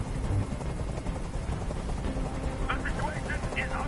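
A hovering helicopter in the video game Detroit: Become Human gives a steady, loud rotor drone filling the whole clip, with brief chirpy sounds near the end.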